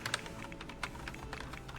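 Rapid typing on a computer keyboard, soft clicky keystrokes in an uneven stream with a few louder taps, close and quiet, with no voices.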